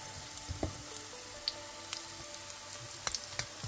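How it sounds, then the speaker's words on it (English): Saltfish fritters shallow fry in a little oil: a faint, quiet sizzle with scattered soft pops and light clicks, heard close with no talking. "So I'm not really looking for a deep fried type fritters, more shallow fry."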